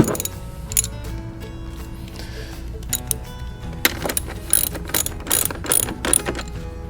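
Ratchet tightening the battery terminal bolt on a Pride Wrangler 2 mobility scooter, bursts of quick clicking ratchet strokes between pauses, close and clear with some metallic handling noise.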